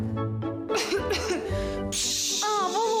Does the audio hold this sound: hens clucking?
no